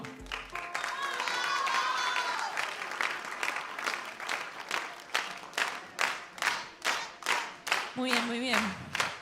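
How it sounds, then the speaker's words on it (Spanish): Crowd of adolescents at a church youth congress claps loudly, building from scattered applause into rhythmic in-time clapping, with brief voices and music-like tones near the start and end. "Vamos, aplauso."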